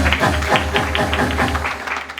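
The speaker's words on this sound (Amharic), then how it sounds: "እስኪ አጨብጭቡ ለጌታ ክብር" Church congregation clapping together for the Lord's glory: steady rhythmic applause from many hands, fairly loud and continuous, with a low drone underneath.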